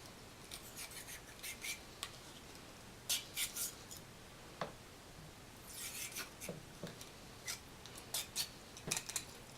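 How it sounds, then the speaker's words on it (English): Nylon bore brush pushed through the barrel of a Smith & Wesson M&P 22 Compact pistol: faint, scattered scratchy strokes and short bristly scrapes with quiet gaps between them, close by, with no talking. "I'm going to go ahead and take my nylon bore bristle and I'm going to run that through the bore"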